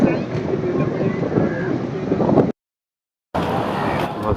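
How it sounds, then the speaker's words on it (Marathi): Strong, big monsoon sea waves with gusting wind and heavy rain at Ganpatipule beach, Ratnagiri, on the Konkan coast: a loud, continuous roar of surf and wind buffeting the microphone, broken by a brief dropout of near silence. "मजबूत मोठ्या लाट आहेत."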